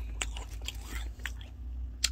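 Crunchy CU Cheongyang mayo shrimp chips being bitten and chewed up close, a few sharp crisp crunches spaced through a quiet background with no talking.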